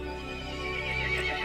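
A horse neighs in a video game, a loud sustained whinny lasting about a second and a half, close and alone with no talk.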